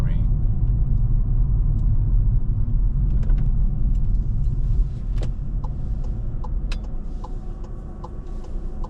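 Car driving on a road at night, a loud steady low engine and road rumble throughout, with small ticking clicks from inside the cabin.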